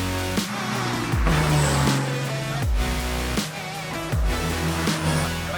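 A turbocharged race car running with no exhaust during a 24-hour race revs hard and shifts gears in repeated rising sweeps, loud and close, with sharp drops between pulls and no talking.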